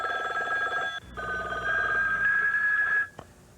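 Telephone ringing in a 1985 TV bank advert, a loud electronic ring in two bursts separated by a short gap, heard alone without talk.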